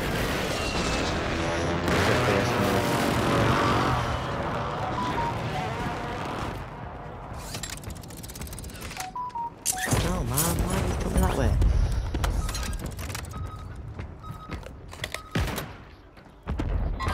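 Gunfire in the Call of Duty Warzone video game, rapid rifle shots and bursts rattling over a busy battle mix, with players talking across most of it.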